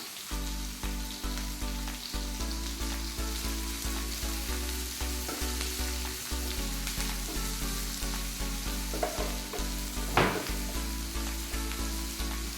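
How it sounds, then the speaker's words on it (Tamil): Onion and capsicum sizzle steadily in a hot pan for a paneer-stuffed naan filling, with a constant close frying hiss and occasional stirring scrapes and clinks, no talking. "ஆனியனும் கேப்சிகம் போட்டு நல்லா வதக்கிக்கலாம்."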